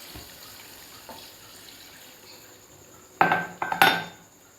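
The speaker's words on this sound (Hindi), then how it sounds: "अब मैं इसमें ये देखें जी, ये पानी डाल दूँगी।" Water poured into a pot of potato meat curry (aloo gosht) on the stove, heard near as a short burst of splashing and metallic clatter after quieter kitchen background.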